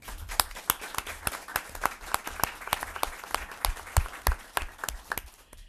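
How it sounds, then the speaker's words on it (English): A small audience claps at a city council awards presentation, a steady run of individual hand claps that are fairly close and distinct and last several seconds, with no talking over them. "So I'd like to give them a round of applause as well."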